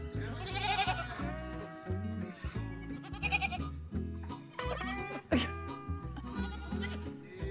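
Newborn triplet goat kids on a homestead bleating, repeated close high-pitched cries overlapping in quick bursts, loud and insistent throughout.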